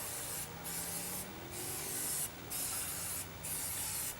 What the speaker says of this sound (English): with these spray cans, you can get that sometimes